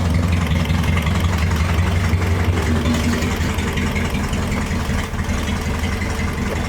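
Engine of an abandoned 1960 Mercedes-Benz idling steadily and close by, a constant low rumble that holds even throughout, with no talk over it.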